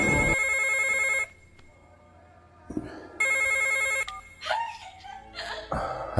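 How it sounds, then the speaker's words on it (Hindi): An old-style telephone bell rings in two long bursts with a pause between, followed by other brief sounds. "अब फोन आ गया जी"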